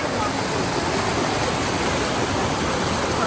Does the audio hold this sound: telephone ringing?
no